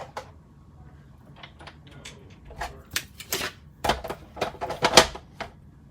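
Card stock being cut in a papercraft die-cutting machine, heard as a series of close, sharp clicks and clacks that grow louder and more frequent, with some quieter shuffling in between.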